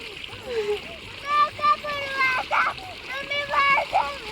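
Children splash about while swimming in water outdoors, with irregular splashes and sloshing around a steady flowing-water background as children's voices call and chatter throughout.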